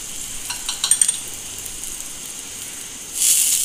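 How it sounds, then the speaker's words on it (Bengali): Green chillies stir-fry in hot oil for a Bengali hilsa fish curry with black cumin, a soft steady sizzle with a few quick spatula scrapes and taps, and a brief louder hiss at the end. "কাঁচা লঙ্কা আমি এখন একটু নেড়ে চেড়ে ভেজে নেব।"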